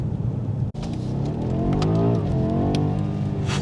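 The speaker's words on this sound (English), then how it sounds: "there's a small burble as well of the V8 rumbling away" BMW M8 Gran Coupe V8 engine rumbling steadily from inside the car as it accelerates, a low continuous burble with rising harmonics, close and moderately loud with no talk.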